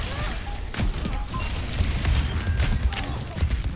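A bomb blast in the competitive shooter Overwatch 2, a loud booming burst amid a dense, continuous clatter of game combat and mechanical effects, with faint voices beneath.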